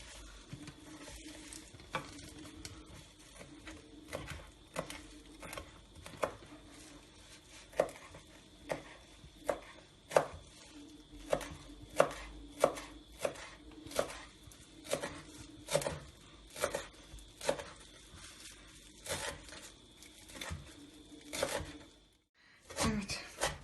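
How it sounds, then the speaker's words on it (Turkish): Parsley is chopped finely with a knife on a board in a quick series of crisp, evenly spaced taps. The faint, close tapping speeds up in the middle and stops with a short pause near the end. "maydanozlarımızı doğruyoruz. İnce ince doğruyoruz."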